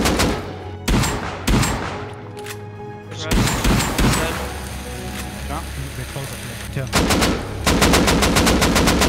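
Gunfire from the survival video game Rust, with rapid bursts of shots and sharp single reports scattered across several seconds, mixed with game ambience and ending in a dense fast volley.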